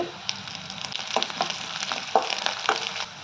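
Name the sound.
tempering spices, onion and chillies frying in oil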